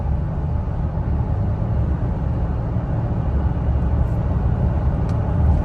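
Steady low-frequency road and engine drone from inside a Toyota Tacoma truck with an overland torque tune, cruising near 60 mph, a continuous even rumble with tire roar and no talk.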